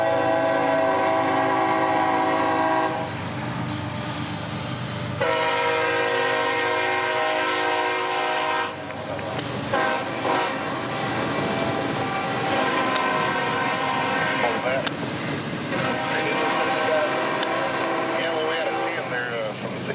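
Freight train I-026 rolls past at Hague near Folkston, Georgia, its multi-chime horn sounding in long sustained blasts over the steady rumble and clatter of wagons close by, with brief talk in the background.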